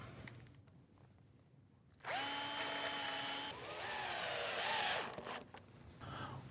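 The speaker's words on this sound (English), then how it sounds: "we have a lot of holes to drill before we can actually install them" A power drill whines loudly in a steady high-pitched burst while drilling holes for a mobile lumber cart, then runs on at a lower strained pitch before winding down, with quiet background between.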